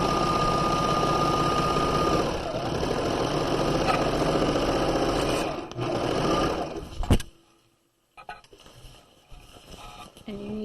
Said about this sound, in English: we'll repeat the same process sewing across to sew the other shoulder seam.